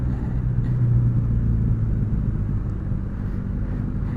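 A road jammed with traffic gives off a steady low engine rumble from idling and creeping vehicles, close by and unbroken, with no voices.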